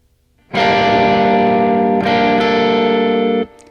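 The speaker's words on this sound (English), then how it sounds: "you're in position to do this riff that we've been looking at." A distorted electric guitar rings out a sustained minor chord riff, briefly re-struck midway, then cuts off after about three seconds.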